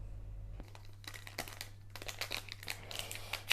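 Foil wrapper of a Pokémon booster pack crinkling and tearing open, close and fairly quiet, with a steady low hum underneath and irregular crackling bursts that grow busier toward the end.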